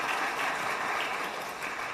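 Audience applause at a scientists' talk concert in Korea, a continuous wash of clapping from a large crowd held at an even level with no talk over it.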